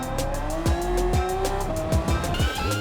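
A Group 3 Honda NSX race car in Gran Turismo 7 at Spa brakes hard into a turn, its engine note dropping in repeated downshift blips while the tires squeal steadily, loud and close with no talk.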